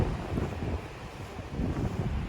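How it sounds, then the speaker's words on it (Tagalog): Heavy wind rumbles across the mic continuously, a dense low roar with slight surges, loud and close, with no voices. "Grabe yung hangin"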